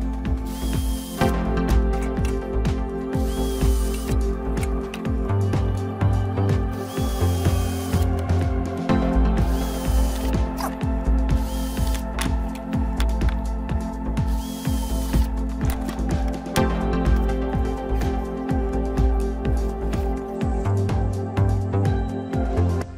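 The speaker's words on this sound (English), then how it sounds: "Between these pieces, I re-drilled the previous holes." A power drill whirs and grinds in repeated bursts drilling holes in a wood plank, with ratcheting mechanical clicks, close and continuous.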